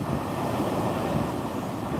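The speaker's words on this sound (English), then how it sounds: "It's blowing a hoolie out here." Strong wind roars steadily across an open microphone while fishing on Southampton Water, with gusting broadband noise and a faint wash of choppy water beneath, loud and continuous throughout.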